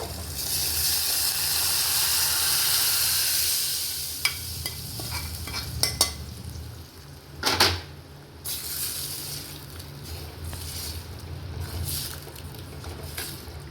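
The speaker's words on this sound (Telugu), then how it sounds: "పప్పు వేసుకున్నాము ఈ పోపులో." Lentils tipped into hot, sizzling tempering for spinach dal, frying with a steady hiss while a spoon stirs and scrapes the pan, with a few sharp clinks and a brief louder splatter partway through.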